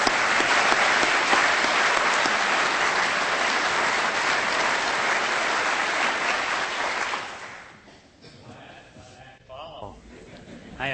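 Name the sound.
audience applause welcoming a speaker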